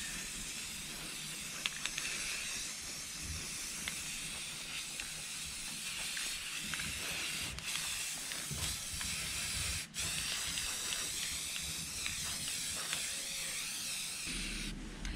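Rust-Oleum Satin Blossom White spray paint hisses from an aerosol can in a long, steady, close spray with a brief break near the end, as a thrifted decor piece is coated.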